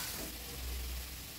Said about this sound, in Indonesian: Terus ini saya oseng-oseng terlebih dahulu biar sedikit layu.